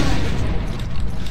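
A super shotgun fires in Brutal DOOM with a loud, dense, bass-heavy boom that fills the whole moment, up close with heavy low rumble.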